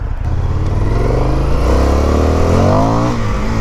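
An Indian motorcycle's engine accelerating hard, a loud, close, throaty roar with rising revs heard from the rider's position, wind noise underneath.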